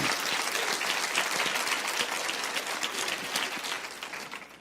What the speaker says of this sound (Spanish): aplauden al Señor si quieren